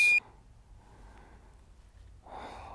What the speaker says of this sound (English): the beep is not helping